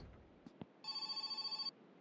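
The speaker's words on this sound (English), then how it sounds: "Phone ringing again." A telephone ringing in the video game My Winter Car: a single long burst of rapid electric bell trilling at moderate distance, preceded by a couple of faint soft thuds in a quiet room.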